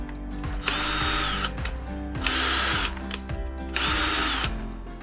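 Ryobi cordless drill spinning up in three loud bursts of high whining motor noise, each about a second long, separated by short pauses with clicking of the chuck or clutch in between.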